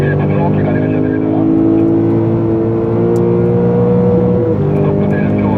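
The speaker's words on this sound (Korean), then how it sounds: "마지막 차 탈출 악셀 가속 한번 하겠습니다. 풀 가속, 핸들 부드럽게 가져가셔야 됩니다." A Lexus GS F accelerates at full throttle out of a corner at Yongin Speedway, its engine a loud, sustained roar with rising pitch, heard from inside the car at close range with a little road and wind noise.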